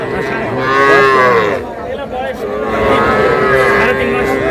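Young bull calves, three to four months old, at a cattle market in Kushtia give loud, close, drawn-out moos, one long call followed by another after a short break, with faint voices in the background.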